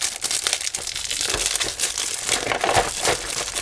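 Plastic wrapping on a Nads nose hair removal kit is torn and crumpled open, a steady close crinkling and ripping that runs without pause for several seconds.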